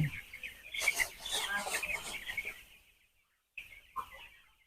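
Many eight-day-old chicks on a poultry farm cheep and chirp together at close range, a busy flock chorus that drops away briefly before a few more peeps.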